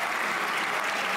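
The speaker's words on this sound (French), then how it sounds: "qui méritent vos applaudissements" A crowd applauds ministers in a short, dense wash of clapping, steady and fairly loud throughout.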